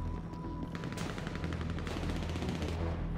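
Rapid gunfire in a multiplayer shooter video game, dense automatic shots firing continuously and loudly with no pause, with no speech over it.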